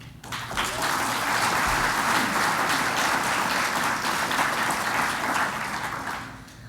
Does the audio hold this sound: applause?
yes